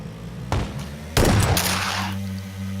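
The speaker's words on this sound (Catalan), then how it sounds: "Algú s'està disparant" Gunfire in the battle-royale game PUBG: a sharp burst at about half a second, then a louder volley of shots that rings out and fades over a steady low in-game hum, with no talking.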